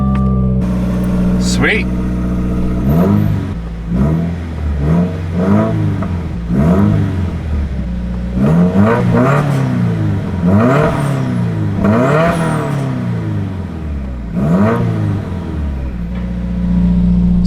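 A car engine with a newly fixed exhaust cranks, catches and runs, its note rising and falling through a series of repeated revs, loud and close. Someone speaks briefly over it.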